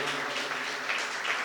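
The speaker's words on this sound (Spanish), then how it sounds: "otro aplauso al Señor" Church congregation applauding during a Spanish-language service, a steady wash of clapping from many hands at moderate level, brief and unbroken.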